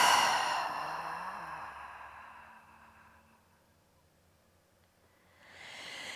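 A long, audible exhale during a pilates core exercise, a breathy broadband sigh that starts loud and fades over about three seconds, followed by near silence and then a soft new breath at the end.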